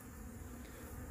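Honey bees buzz around an open hive frame from a small colony being readied for winter, a continuous faint hum close by with no voices.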